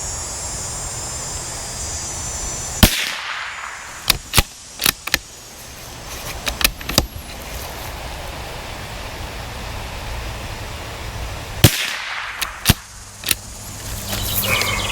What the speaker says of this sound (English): First 10-shot group coming up.